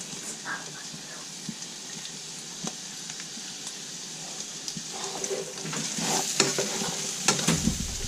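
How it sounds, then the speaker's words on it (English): Sausage mixture with chopped vegetables and mushrooms cooking in a pan, giving a soft steady sizzle with occasional stirring scrapes and clicks that grow busier and louder toward the end. "we're going to add it to the sausage mixture and cook it for another 5 minutes"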